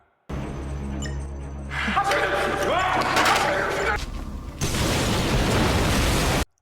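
A rumbling explosion blast with crackling debris, followed by a sustained roaring wash of noise, loud and close.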